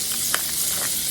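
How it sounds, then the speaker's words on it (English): Butter sizzles in a skillet with a steady, soft hiss and a few tiny crackling pops, quiet and continuous with no talking. "So the first thing we're going to do is add some butter to our skillet."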